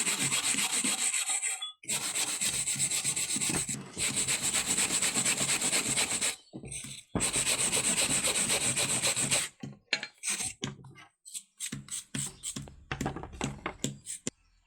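A brush sweeps powder over a grilled buffalo hide in long, loud, close scraping strokes, with brief pauses between passes and shorter, choppier rubs toward the end.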